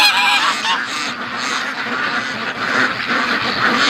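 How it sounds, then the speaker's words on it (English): A flock of free-range farm ducks, joined by small wild female mallards, quacks loudly and constantly at close range, overlapping calls forming a busy, honking chorus with no talking. "We got wild ducks that keep coming in with the ducks."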